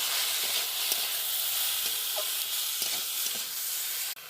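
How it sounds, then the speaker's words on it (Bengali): Fried onions with turmeric powder being stirred in a pan for a brinjal and coriander-leaf dish, a steady close sizzle with a few soft scrapes of the spatula and no talking. "এবার এটাকে ভালো করে আমি নেড়ে দেবো।"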